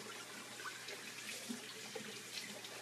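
Freshly made kale green juice poured into a container, a soft steady liquid trickle with faint splashes, quiet and continuous, with no voices.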